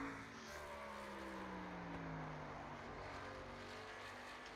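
A race truck from iRacing runs a qualifying lap at Tennessee, its engine droning steadily with a slowly falling pitch as it passes, faint and continuous, with no talk.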